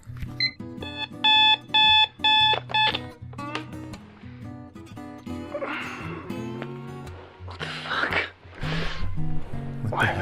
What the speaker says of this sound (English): Why was my alarm set so early?